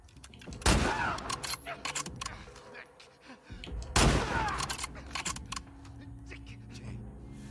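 Gunfire in The Last of Us Part II: two loud, close bursts of shots a few seconds apart, each trailing off into echo, with quieter game ambience between them.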